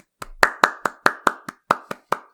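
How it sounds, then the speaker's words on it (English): A slow, polite golf clap: about ten separate hand claps at an even, unhurried pace, close and clear with no voices. "Golf clap"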